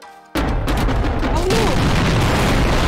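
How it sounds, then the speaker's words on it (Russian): Sudden loud explosion in the video game Garry's Mod, a sharp onset after brief quiet followed by sustained rumbling blasts and crackling debris, with a voice speaking under it. "Ребята, последний эпический взрыв."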